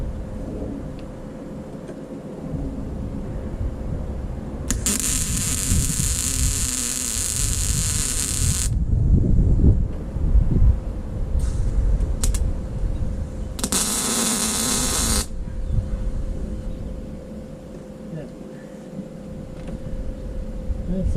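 An electric welder tacks steel frame rails for a Jeep Cherokee XJ in short crackling bursts, with two loud sizzling runs separated by a pause and brief pops, over a steady shop hum.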